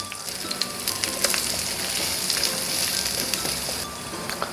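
Kimchi pancake frying in oil in a pan sizzles loudly and continuously with scattered sharp crackles and pops, close up, with no talking.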